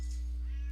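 A single short meow from a cat close by in a room, over a steady low electrical hum.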